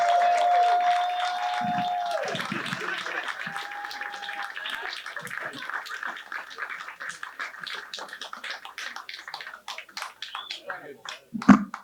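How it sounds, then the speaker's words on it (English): Applause from a comedy bootcamp graduation audience after a stand-up set, steady dense clapping that builds and continues for several seconds, starting under a voice at the host's mic near the beginning. "Give a round of applause for Bud."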